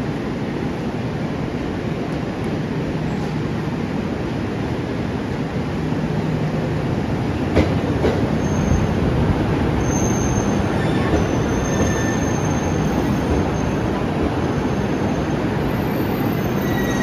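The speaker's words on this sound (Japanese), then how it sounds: "この後15時22分ごろ回送列車として4番線へと入線してきます。" The Aoimori Railway Nebuta Liner special rapid train rolls into platform 4 at Hachinohe station in Japan as an out-of-service run, a long, loud, steady rumble of wheels on rails with faint squeals, growing slightly louder midway.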